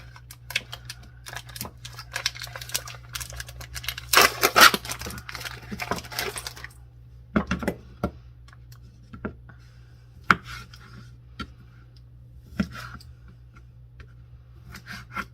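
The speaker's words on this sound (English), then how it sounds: "I'm going to cut up a beef smoked sausage" A knife slices Hillshire Farm beef smoked sausage on a cutting board, giving irregular crisp taps and thuds in quick clusters over a low steady hum.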